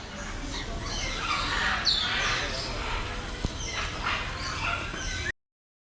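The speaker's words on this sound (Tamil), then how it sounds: "இது நல்ல அமைதியா, பறவைகள் கத்துறது மட்டும் கேட்டுட்டு இந்த பேர்ட் பார்க் இன்னும் நல்லா இருக்கு." Birds squawk and call repeatedly at a bird park in Kelaniya Water World, where large birds are kept, with harsh cries overlapping at moderate distance over a steady outdoor background and faint voices.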